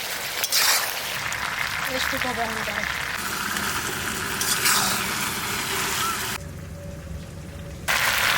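Mutton being fried and stirred in a kadai for a homemade curry, with a steady loud sizzle and occasional scraping clinks running throughout, briefly dropping in intensity partway through.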